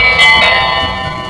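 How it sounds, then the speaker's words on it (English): A toy doorbell rings loudly with a bright, bell-like metallic chime that sustains and slowly decays, sounding alone and close. "First, he wants us to ring the doorbell to see if anyone's home."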